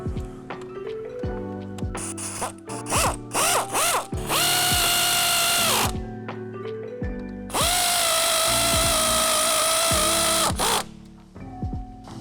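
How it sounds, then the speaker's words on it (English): Two bolts on a front top mount of a 2014-2017 Mercedes-Benz S550 AWD are run in with a power tool during a front suspension conversion, giving two long, loud whirring bursts between shorter bursts and clicks. "Put your two bolts in. Tighten those up."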